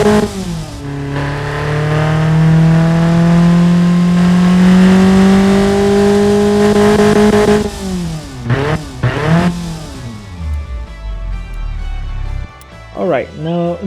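A tuned Hyundai 1.4-litre four-cylinder engine in the Automation game holds a long, loud, slowly climbing rev, then snaps through several sharp throttle blips before dropping back.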